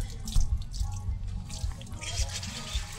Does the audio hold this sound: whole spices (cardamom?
no